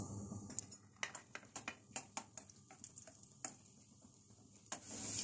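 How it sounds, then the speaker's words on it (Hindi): Ginger frying in a pan for Punjabi sarson ka saag, with a soft sizzle under repeated sharp spoon clicks and scrapes against the pan, fairly faint and without talk. "सबसे पहले चूंकि अदरक हार्ड होती है इसको पहले फ्राई कर लेंगे"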